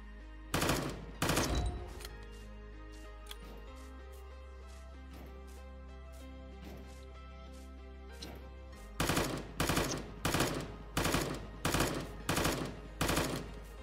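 Gun firing in the video game Voxiom: a burst of quick shots, a pause of several seconds with a steady hum, then a longer run of evenly spaced loud shots, with no talking.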